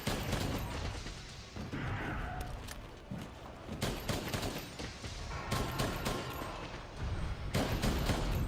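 Rapid light bowgun shots from Monster Hunter against Kushala Daora, a steady stream of sharp gunfire-like bursts running nearly continuously at close range with brief dips between volleys.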